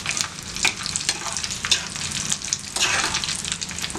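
Curry leaves, dried red chillies and asafoetida sizzle in hot oil in a pan for a South Indian tempering, a steady close crackling fry with sharp spits and stirring scrapes, no talk.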